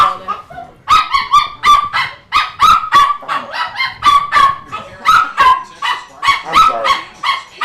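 A dog barks insistently and loudly close by, a rapid series of sharp, honking barks repeating almost without pause.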